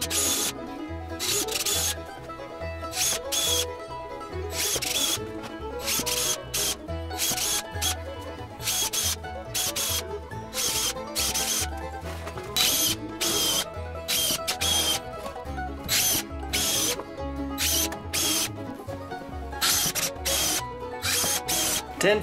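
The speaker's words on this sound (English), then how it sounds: "Now we drill some holes and set some screws." Power drill bursts whir repeatedly while drilling holes and driving screws into roller coaster track supports, short high-pitched runs starting and stopping in an uneven rhythm, loud and close.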